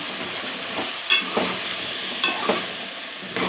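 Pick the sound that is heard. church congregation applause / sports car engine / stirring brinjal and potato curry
stirring brinjal and potato curry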